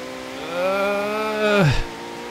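Audi in Forza Horizon 3 revving with a steady rising engine tone that climbs, then abruptly drops and cuts off near the end; no talk during the sound.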